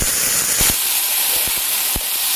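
Sour ingredient added to hot oil with onion, green chili, garlic, cumin and ginger, giving a loud, close, continuous hiss and sizzle with several sharp pops and thuds.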